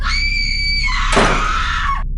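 A woman lets out one long, piercing scream as a horror story sound effect, loud and close, shifting in pitch before a harsh burst and breaking off abruptly.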